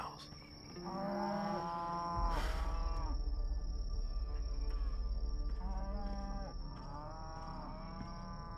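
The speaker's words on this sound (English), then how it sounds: "Pierce's cows." Several cows mooing in long drawn-out calls, one after another, over a steady background of insects chirping at night, with a low rumble in the middle.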